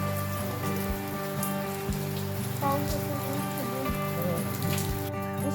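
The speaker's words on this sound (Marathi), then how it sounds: "रिमझिम पाऊस चालूच होता" Steady light drizzle patters continuously on a surface in the Konkan countryside at night, a soft even hiss with a low hum running underneath and no voices.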